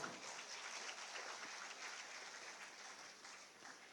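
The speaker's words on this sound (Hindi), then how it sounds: "तालियां आपकी ओर से जोरदार हों।" Applause at a ceremony for appointment letters and merit awards attended by a chief minister, a faint, steady patter of many hands clapping in a large space with no voices.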